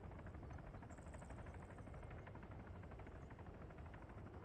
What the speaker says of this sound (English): I hear a helicopter.